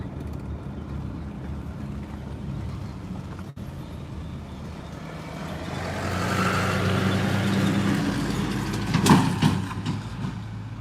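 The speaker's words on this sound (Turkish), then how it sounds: "Bir araba geçti lan oradan" A car passing by on a mountain road, heard from inside an idling vehicle: a low rumble that swells in the second half, peaks with a short loud burst, then eases off.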